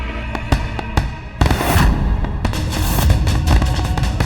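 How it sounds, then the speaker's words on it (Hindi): A rapid string of sharp firecracker bangs bursting close by at a summer camp, loud irregular pops with crackling and rumble filling the gaps between them. "ये पटाखे की आवाज़ इसी कैंप से आ रही है"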